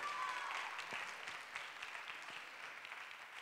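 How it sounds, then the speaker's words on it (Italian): Audience applauding at a sports gala evening featuring martial arts: a steady, dense crowd clapping with no break, fading a little toward the end, with no talk over it. "Un forte ringraziamento a Oleg, un bellissimo applauso."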